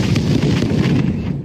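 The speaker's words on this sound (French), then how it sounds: "Non! Explosion!" A booming explosion sound effect from a battle scene erupts as a loud, dense rumble that lasts about a second before cutting off.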